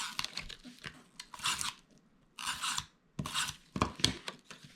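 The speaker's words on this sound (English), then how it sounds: "So I am going to take my tape runner" A tape runner lays adhesive onto paper scraps for a craft rose, giving several short dry rasping strokes in quick bursts separated by pauses, close and fairly quiet.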